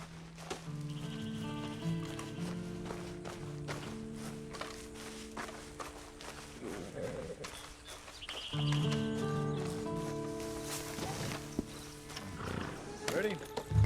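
Horse hooves clopping with occasional neighing in the video game Red Dead Redemption, steady footfalls running under a voice with ambient outdoor noise throughout.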